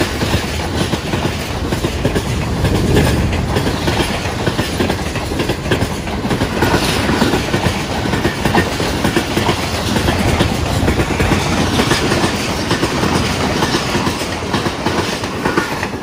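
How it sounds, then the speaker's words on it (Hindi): Train passing close by with continuous loud rumbling and rhythmic clickety-clack of railroad cars rolling along the tracks, steady throughout with no talking. "रेलगाड़ी आ रही है, तो रेलगाड़ी आपको दिखाते हैं"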